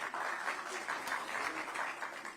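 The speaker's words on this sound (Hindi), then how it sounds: "तालियां जरा जोरदार हो जाएं।" A crowd at a Haryana government event applauds steadily, a dense wash of clapping hands that holds at an even level for a couple of seconds.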